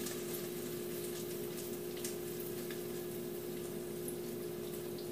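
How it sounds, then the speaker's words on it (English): Grease poured from a cooking pan into a bowl after okra and tomatoes were fried, a steady close trickling and gushing liquid sound running continuously without speech. "go ahead and add and pour this grease into a bowl"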